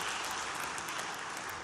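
Dense applause from an audience honoring the Young Africans club president in a hall, steady and sustained without a break across the whole moment.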